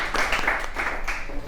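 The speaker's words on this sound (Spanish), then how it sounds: "un aplauso por eso" Audience applause at a gallery talk, a dense wash of clapping with a faint voice mixed in, steady and moderately loud across the short stretch.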